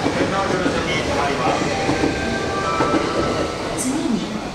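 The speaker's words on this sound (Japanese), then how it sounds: "次に、一番乗り場に参ります電車は、当駅止まりです。" A JR West train rolls into a platform at Osaka station, a steady rumble with wheel clatter, a brief high squeal near the end, and a platform announcement voice running over it.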